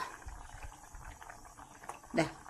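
Raw banana tamarind curry, topped with curry leaves and coconut oil, bubbles gently in a pot, a soft low burble with one sharper bubbling pop near the end.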